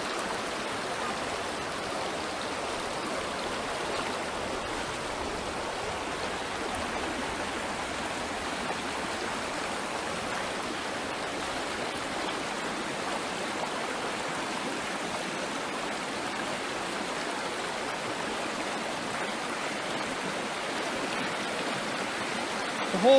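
A mountain stream at a campsite flows in a constant, full rush of water, a close and unchanging broadband wash lasting the whole stretch with no voices over it.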